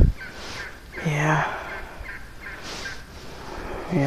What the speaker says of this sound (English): I know, there's turkeys.